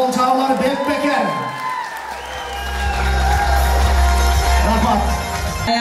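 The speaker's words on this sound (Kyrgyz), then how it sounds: "Катыра кол чаап бериңиздер." Wedding guests at Ilyas and Aiturgan's celebration clap and cheer loudly throughout, a dense crowd wash with whoops, while music or a voice carries over the applause.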